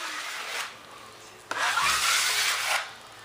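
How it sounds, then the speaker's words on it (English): A scale P-51 landing gear door has its top scraped by hand, two close, rough rasping strokes with a short pause between them. "I'm gonna scrape this top"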